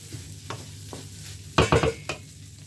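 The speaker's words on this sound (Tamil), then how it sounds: "இப்போ ஒரு 5 நிமிடம் நான் இதை லோ ஃப்ளேமில் வச்சு வதக்கினான் அந்த தூளுண்ட பச்சை வாசனை போகிறதுக்காக" Spice powder being sautéed on a low flame for dried anchovy fried rice: a soft, low sizzle broken by a few close scraping stirs of a spoon against the pan, one brief louder cluster of strokes in the middle.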